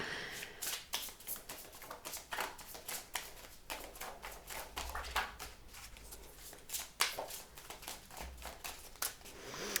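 A deck of tarot cards being shuffled by hand, rapid riffling and slapping bursts repeating in quick, uneven rhythm, close and crisp in a quiet room.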